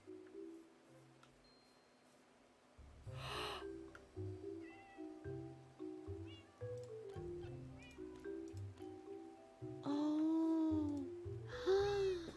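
A Minecraft cat meows repeatedly in short, separate calls, some rising and some falling, over soft game ambience, with no one talking.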